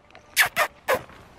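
Three sharp, loud dog barks in quick succession, close by, with a short gap before the third; no talking over them.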